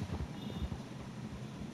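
Horse hooves clip-clopping in a video game, a steady run of soft low thuds in an even walking rhythm, moderately close, with faint wind-like background noise and no voices.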